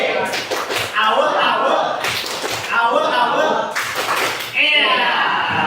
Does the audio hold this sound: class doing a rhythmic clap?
yes